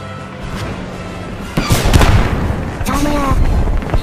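An explosion blast in the World War II shooter Post Scriptum lands as one loud, sudden boom with a rumbling tail. A second, weaker blast follows about a second later.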